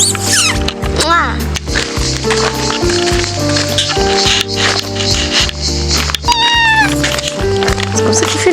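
A person mimics a cat with repeated high, drawn-out meows and wails, loud and close, over steady thumping club music with strong bass at a nightclub.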